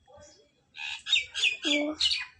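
A common myna, come to drink water, gives a quick run of harsh, squawky, chattering calls close by, after a softer opening note.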